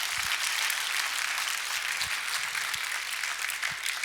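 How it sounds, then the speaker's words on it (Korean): A church congregation at a Korean spring choir festival service applauding, with dense, sustained clapping from many hands that stays steady and fairly close throughout, with no talk over it. "박수를 치려면 화끈하게 치고 말라면 말해야지."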